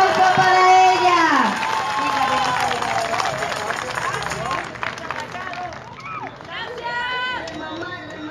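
Crowd applause and cheering at a town festival queen candidate vote count, mixed with babble and loud voices talking over it, with some whooping near the start.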